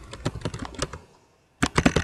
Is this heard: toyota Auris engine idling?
no